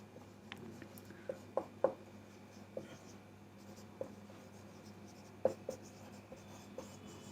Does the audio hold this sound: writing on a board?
yes